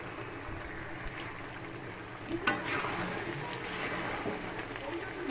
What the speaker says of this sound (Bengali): আদা পেঁয়াজ রসুন সব পেস্ট করে তারপরে চিকেনটাকে কষানো হচ্ছে।